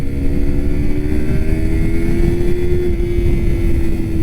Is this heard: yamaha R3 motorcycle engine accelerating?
yes